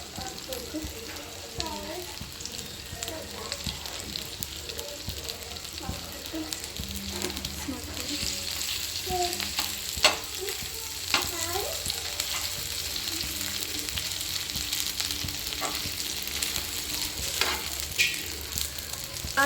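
Peeled garlic and ginger fry in hot oil in a pan, a dense continuous sizzle with stirring clatter and spatula scrapes throughout, close up, with a voice talking faintly over the cooking.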